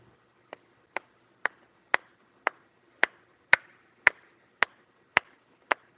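Small toy hammer tapping an inner axle seal into place on a 2003 Subaru Outback 4EAT transmission: eleven crisp, close metallic taps at an even, unhurried rhythm, with near silence between strikes.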